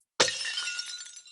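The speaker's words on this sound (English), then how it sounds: "If we lower the pitch and slow it down, it sounds like this" A beer bottle shatters, pitched down and slowed so it sounds like a much bigger object breaking, with one sudden crash and a long, sustained spray of glass that trails off, heard alone.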